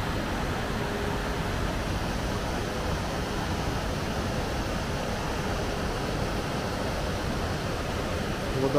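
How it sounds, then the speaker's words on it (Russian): Waterfall in Kranj, Slovenia, in December, heard as a steady, dense broadband rush that stays constant throughout with no breaks. "Водопад такой шикарный."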